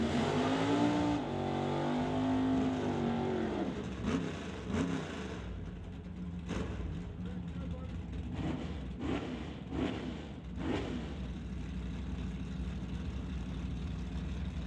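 A Barracuda and a Monte Carlo drag racing at a drag strip roar loudly with rising revs at the launch, then settle into a sustained, distant engine drone as they run down the track.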